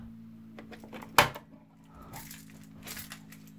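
A key turning in the lock of a bathroom soap dispenser, one sharp close click followed by faint rattles, over a low steady hum.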